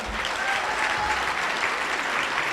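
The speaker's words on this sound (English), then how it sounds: "Big round of applause for them." Steady, dense applause from a large crowd at a Making Strides Against Breast Cancer kickoff celebration, thanking the sponsors Gold Coast Eagle Distributorship, John Saputo, Brown Distributing and Rosa Fiorelli Wine; the clapping stays loud and even throughout, with no talk over it.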